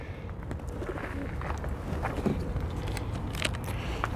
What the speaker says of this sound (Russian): И откуда тут столько голубей?